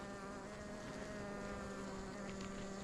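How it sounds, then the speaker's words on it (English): Honey bees in a queen-rearing cell-builder hive hum as a continuous, faint buzz with a steady pitch, heard alone with no voices. "Tell me these ain't some excited bees."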